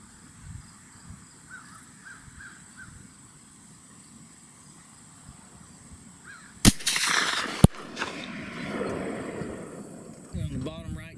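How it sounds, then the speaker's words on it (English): A CVA Accura V2 muzzleloader rifle fires a 250-grain bullet on an open field range. One loud, sharp report splits the air midway, followed a second later by another crack. Crows caw and wind blows softly beforehand. "this is shot number 2 with the 250 grain bullet and 2 white hot pellets"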